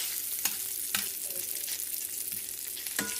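Thick sliced bacon fries in a pan with a steady bright sizzle and crackle, broken by a few sharp pops and utensil scrapes, close up and with no voices.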